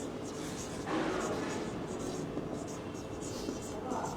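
A teacher writes on a classroom board during a first-grade Bengali lesson, producing steady scratchy strokes that run through the clip, with faint speech in the background.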